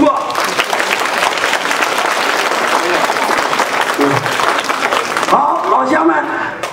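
A banquet-hall audience at a Lunar New Year gala in Atlanta breaks into loud, sustained applause that fills nearly seven seconds, easing off near the end as a voice cuts in.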